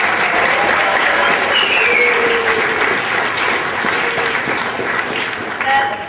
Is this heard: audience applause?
yes